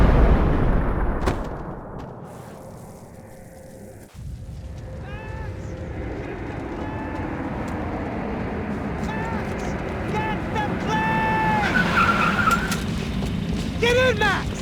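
Car engine in Max Payne 3 revving and droning through a chase with tire squeals and crashes, while characters shout over the driving and a whistle-like tone rises near the end.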